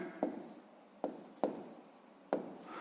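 A pen writes out a sixth-grade math solution on paper, four short faint scratching strokes spaced irregularly in a quiet room, no speech.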